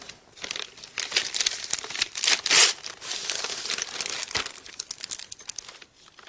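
A handmade present, a drawing, being unwrapped, with close, loud crinkling and crumpling of paper in uneven bursts, peaking in a sharp rustle midway before tapering off.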